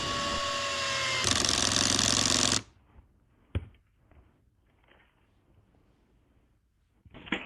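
A Makita DDF083 cordless drill whirs steadily driving metal screws, then stops abruptly; afterward a sharp click, some faint handling noises, and a brief whir starting again at the end.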